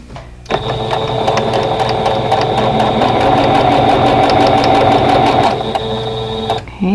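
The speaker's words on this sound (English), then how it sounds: "now ready to sew that seam" A sewing machine stitches a quilt block seam, starting abruptly after a brief pause and running at a steady, fast, rhythmic hum close by before stopping near the end.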